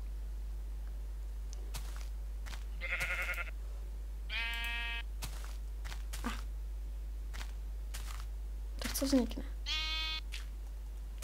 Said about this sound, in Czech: Tak máme 3 ovečky.